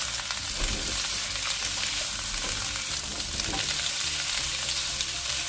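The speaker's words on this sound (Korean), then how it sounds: "팬에 식용유 3큰술을 두르고 데친 연근을 넣고 중강불에서 2-3분간 볶아줍니다." Blanched lotus root sizzles loudly in a pan with three spoonfuls of cooking oil over medium-high heat, a continuous close fry with occasional stirring scrapes.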